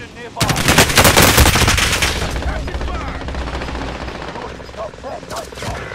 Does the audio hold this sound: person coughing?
no